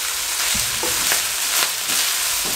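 Chicken fajita rice being stirred and cooked in a pan over a medium-low flame: a continuous close sizzle with several soft scraping and stirring knocks spread through it, and no voices.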